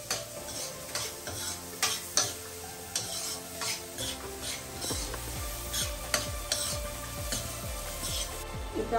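Onions frying with a pinch of salt and sugar in a pan for kadai paneer, giving a soft, constant sizzle with frequent stirring scrapes and light clinks of the utensil, close up and fairly quiet, no voices.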